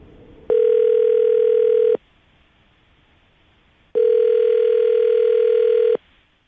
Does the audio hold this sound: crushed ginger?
no